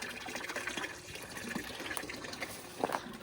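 A 12-volt well pump pushes dirty water from a tank, giving a continuous splashing, trickling flow with small gurgles and splatters, fairly close.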